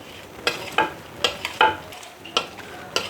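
Dry breadcrumbs being mixed with cornflour, salt and white pepper in a bowl, giving soft gritty scraping strokes at an irregular rhythm, close and fairly quiet, with no talking.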